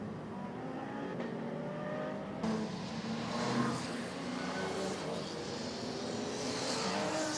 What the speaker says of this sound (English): 42 cars going out to play for the first 3 hours of the Hankook 12 Hours of Zandvoort.